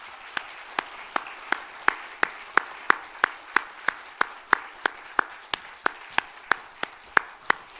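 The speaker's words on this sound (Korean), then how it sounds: "우리 하나님께 영광의 박수를 올려드리겠습니다." A church congregation claps in steady unison for about eight seconds, sharp evenly spaced beats roughly three per second, close and crisp with no voices over it.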